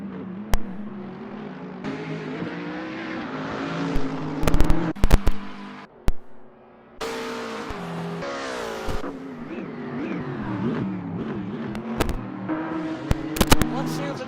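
Race cars, including a Mercedes and a Ferrari, roar through an offline championship in the Assetto Corsa racing game, with engine notes rising and falling and sharp clicks and bangs scattered throughout, under continuous spoken commentary.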